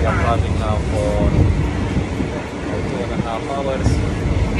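Inside a train on an overland trip from Thailand to Cambodia, a loud rumbling, rattling ride noise with wind buffeting runs throughout, while a person talks over it intermittently.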